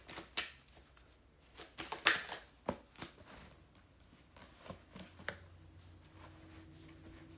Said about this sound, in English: I'm going to stop shuffling